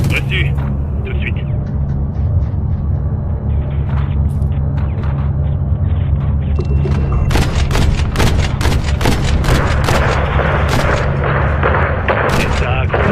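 Dense gunfire fills an action-film firefight, with rapid bursts and sharp shots over a constant low rumble that grow heavier in the second half, while a voice speaks briefly amid the shooting.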